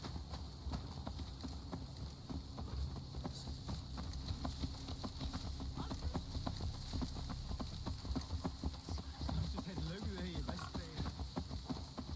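Horse hooves clip-clop in Assassin's Creed Valhalla, a steady quick rhythm of hoofbeats running throughout over a low ambient game background.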